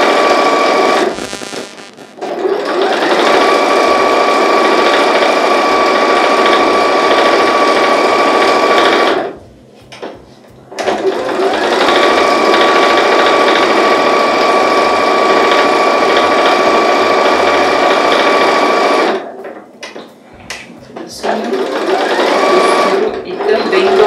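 Sewing machine stitching fabric for fabric organiser baskets, seaming the pieces with a lockstitch and a backstitch, leaving an opening. Steady close motor whirring in three long runs broken by short pauses, with a voice talking in the gaps.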